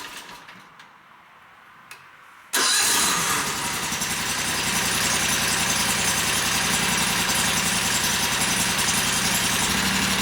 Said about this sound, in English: I still have to reach up here to turn on the motor